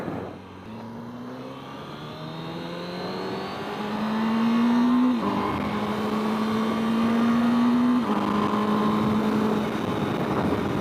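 A 2023 Honda Fireblade SP 1000RR-R sport motorcycle on a low-mileage break-in ride, its engine droning steadily under load and climbing in pitch through the gears with quickshifted changes, loud and continuous with wind noise and no talking.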